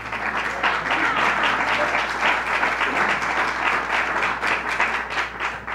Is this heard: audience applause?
yes